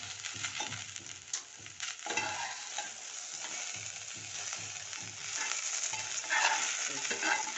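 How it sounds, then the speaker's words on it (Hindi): Okra frying over high heat in a pot while being stirred, a continuous sizzle broken by repeated scraping strokes of the spoon, close and fairly loud with no talk. "बस इतनी ही देर तलना है कि ये लेस ना हो"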